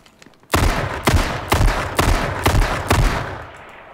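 Rapid bursts of gunfire in the video game H1Z1 shooting at a car, about seven loud, evenly spaced shots over a few seconds with a short decay at the end, no talking.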